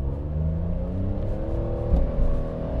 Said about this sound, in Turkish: Dip gaz yaptım.